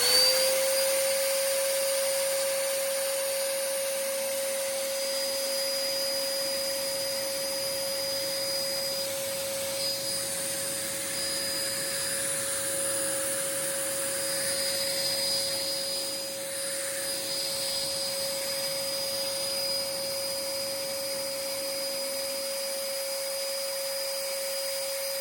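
A PAKUNDAS electric ULV fogger sprayer runs in a steady, loud, continuous whine with a constant high tone over a broadband rushing hiss, unbroken and alone, without any talk.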